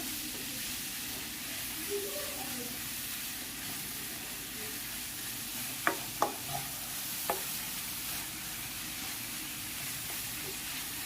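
Carrots sauté in a pan for paneer rolls with a soft, low, steady sizzle and a few brief clicks of a utensil against the pan.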